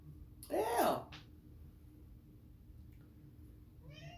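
A house cat meows loudly near the microphone, one long drawn-out cry, followed by a softer brief sound and a fainter second meow near the end, over a quiet room background.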